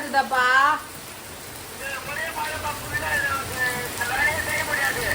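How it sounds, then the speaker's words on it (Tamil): A heavy village downpour keeps up a constant hiss of rain on surfaces, with a voice starting loud and people talking on top of the rain. "மழை ரொம்ப பேஞ்சு"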